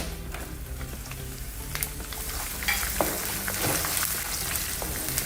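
Steady sizzling and spattering of crushed garlic frying in hot oil with roasting peanuts, with occasional stirring clinks, fairly quiet and continuous.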